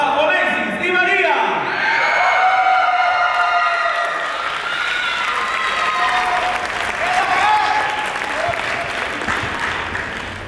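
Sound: audience applause welcoming dance performers

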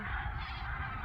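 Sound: flock of seagulls calling at dawn on the coast

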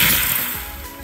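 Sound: espresso machine steam wand being purged

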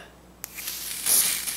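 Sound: spraying wig grip spray

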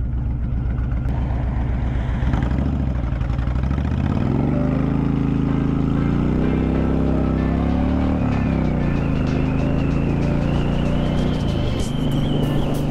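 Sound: motorcycle riding on the road

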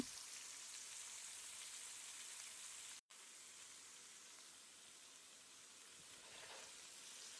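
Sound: eggplant added to hot oil, sizzling

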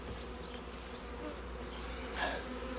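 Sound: honey bees buzzing in a bee package

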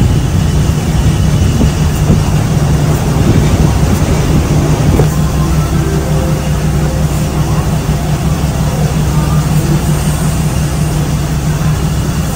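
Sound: train arriving at Maha Chai station

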